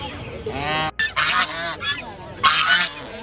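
Loud, nasal honking calls from ducks at a market in Pallavaram, several harsh honks in quick succession, close by with a faint background murmur.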